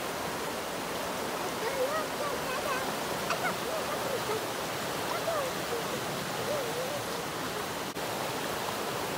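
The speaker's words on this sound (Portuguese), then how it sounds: "o barulho de um riozinho, uma cachoeirazinha que tá passando aqui perto" A small mountain stream and little waterfall in the French mountains rush as a steady, broadband wash of running water, close and continuous, with faint birdsong and no talking.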